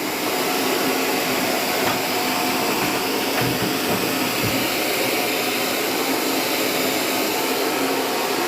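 A hair dryer blows continuously at close range while blow-drying hair with a brush for a silk press, a loud, steady rush of air with a constant motor hum and no pauses.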